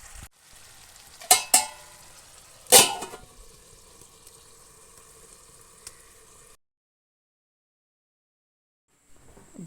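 Beef fries in oil in a pan with a steady soft sizzle, two sharp louder clatters near the start, then the sound cuts to near silence for the last few seconds.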